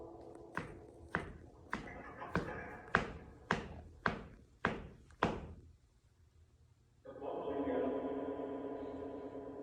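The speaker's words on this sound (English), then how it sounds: "as well as stomping my feet, are one of many things I do to wake up the environment" Feet stomp on the floor of a high school, giving nine heavy, evenly spaced thuds in a steady rhythm. A pause follows, then a sustained rushing noise.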